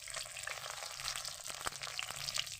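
Bottle gourd leaf chops frying in oil in a pan, a steady close sizzle with faint crackles and occasional light pops, no talking.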